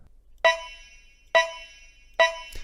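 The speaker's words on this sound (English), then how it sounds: "And then there's also this bleepy sound" Three bright synth bleeps with a ringing, harmonic tone, spaced about a second apart, each fading slowly before the next.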